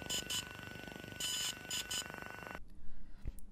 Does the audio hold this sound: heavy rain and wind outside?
no